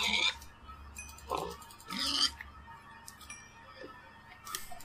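Pigs in the Minecraft video game grunt and oink in short bursts over a steady low game background hum, fairly quiet and close.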